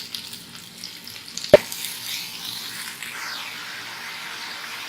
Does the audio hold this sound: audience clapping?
no